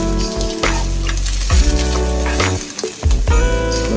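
Corn and other vegetables sizzle loudly in a hot pan, close up, with steady frying crackle and intermittent stirring scrapes and light clinks.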